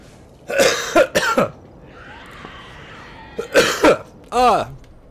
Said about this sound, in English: I got a cough really bad because I'm talking so much and my throat itches